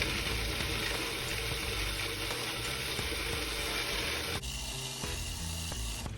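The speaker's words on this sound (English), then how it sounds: "let us blend this until it is smooth" A blender runs on pesto with Parmesan cheese, a steady close whirring motor that shifts pitch and texture abruptly partway through, with no voices.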